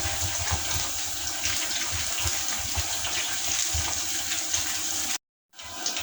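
Garlic frying in oil in a pan, a steady loud sizzle hissing without a break for about five seconds and then cutting out abruptly before resuming briefly, with no talk.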